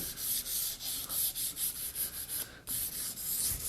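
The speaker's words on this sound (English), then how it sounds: "run your sandpaper over the waxed surface here" Sandpaper rubs back and forth over the waxed wooden handle of an axe in steady, rhythmic strokes, close and fairly quiet, with a brief pause near the end before the strokes resume.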